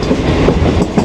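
A Pakistan Railways Green Line train, GU 49050, rolls out of a station gathering speed, with a steady, loud rumble of wheels and carriages and faint rhythmic clatter throughout.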